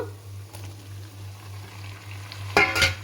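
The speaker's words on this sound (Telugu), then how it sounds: "ఇప్పుడు ఇందులో మనం టమాటాలు వేసేసుకుందాము" Tomatoes added to a pan with kasuri methi and green chillies, a quiet low sizzle for most of the moment, then a sudden brighter crackling burst near the end as they hit the hot pan.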